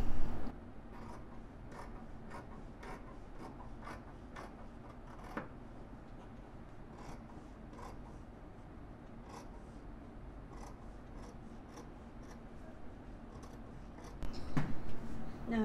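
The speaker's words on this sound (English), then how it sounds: "and I'm going to cut." Scissors snip through fabric while a bridal face mask is cut out at the dotted fold line of the pocket layer, a string of short, crisp, fairly close cuts at an uneven pace over a low background hum.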